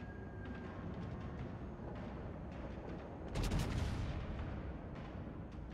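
A single heavy naval gun salvo booms out in World of Warships from a Montana battleship, one broad deep blast about midway through, over a steady din of battle noise.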